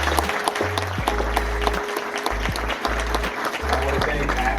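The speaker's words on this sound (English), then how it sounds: "Let's give them a round of applause for putting up with us." Dinner guests at a community college restaurant applaud the staff with steady, close clapping over a hum of low tones. Some scattered voices can be heard through the applause.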